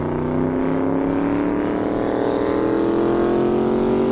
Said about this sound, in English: Your world's fastest Corvette.